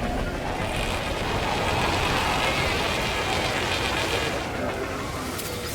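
A rain storm in the video game No Man's Sky pours down as a dense, steady hiss of rain on surfaces, loud and unbroken throughout.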